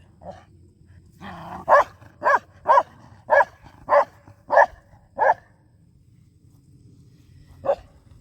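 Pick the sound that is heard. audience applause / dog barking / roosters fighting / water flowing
dog barking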